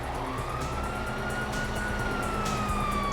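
A police siren wails steadily in the distance, its tone rising and falling slowly over continuous background noise, with no voices.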